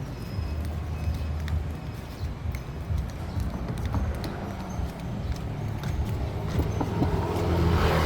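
Inside a moving car, a steady broadband road and engine rumble runs throughout and swells slightly toward the end.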